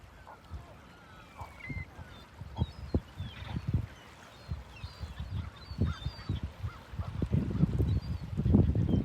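Geese honk in scattered calls over a windy Cape Cod shoreline, some near and some farther off, with low rumbling gusts and water noise building toward the end.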